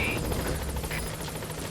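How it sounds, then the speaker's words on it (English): Support helicopter in Metal Gear Solid V: The Phantom Pain, its rotor chopping steadily with a low engine drone, close and continuous through the brief stretch. "Support helicopter has arrived."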